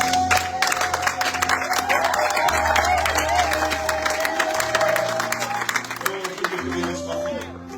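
Congregation in a French church service applauding and cheering, a broad crowd roar of clapping and voices layered over sustained organ or keyboard chords and a held melodic tone, loud and continuous.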